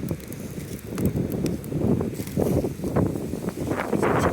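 Strong wind gusts across a yard in Ohio in early spring, producing an uneven, rumbling buffet that surges and eases without pause.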